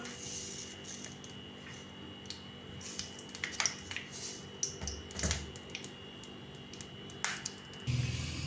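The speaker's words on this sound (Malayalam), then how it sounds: "കടുക് പൊട്ടി." Mustard seeds pop and crackle in hot oil in a pan while making mango pickle, with scattered sharp snaps over a low steady hum, growing busier toward the end.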